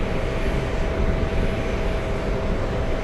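A JetBlue airliner at JFK airport gives off a steady, loud, broadband engine roar that holds constant from start to finish with no voices.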